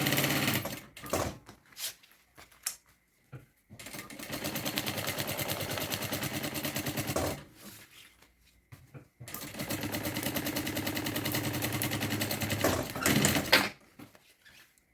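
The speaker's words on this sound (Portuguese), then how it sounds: "Agora eu posso costurar toda a volta prendendo o meu forro" Sewing machine stitching a fabric lining to the main fabric of an insulated bag, running in two long steady bursts with short stops and a pause between them, close and fairly loud with no talking.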